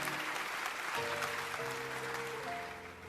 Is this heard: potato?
no